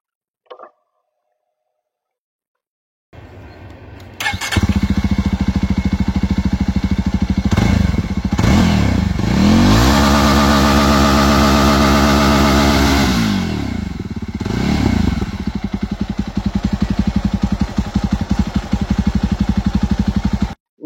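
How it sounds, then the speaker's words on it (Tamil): A 2024 Jawa 42 Bobber motorcycle engine starts after a few seconds of quiet, then settles into a loud, close idle broken by several rising and falling revs through its exhaust, with no talk. "வண்டி ஸ்டார்ட் பண்ணி பார்க்கலாங்களா?"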